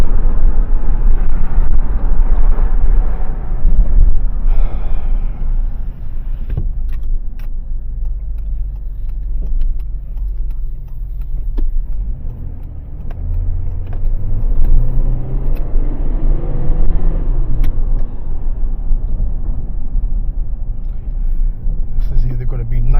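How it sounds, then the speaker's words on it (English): A GMC Envoy driving and shifting through its gears, with a continuous low engine rumble that swells and dips through the shifts, heard from inside the vehicle with a person talking over it. "Goes through all the gears."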